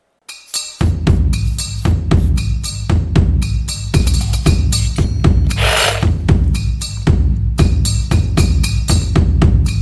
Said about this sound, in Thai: ฉีดพ่นตรงใบมีดเขานะครับพ่นไปเลยนะครับ